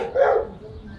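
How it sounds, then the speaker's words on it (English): A dog barks once from behind the person, a short mid-pitched burst that tails off, heard outdoors on a Malta beach. "There's a dog behind me, ruining my introduction."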